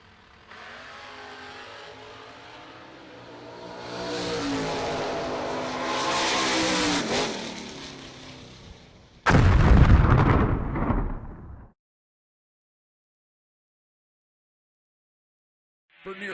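A drag racing car makes its solo bye run at a drag strip, the engine building to a loud roar, then a sharp, very loud burst of exhaust noise before it cuts out and goes quiet.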